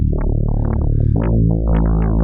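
A distorted neurofunk synthesizer bass made in Vital, with a pulsing, wobbling dotted-quarter-note LFO filter sweep that rises and falls rhythmically, loud and alone, with an echoing tone.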